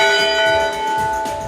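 The church bell in the Presidio Chapel bell tower rings loud and close, its long sustained tone humming with steady overtones as a fresh strike lands partway through.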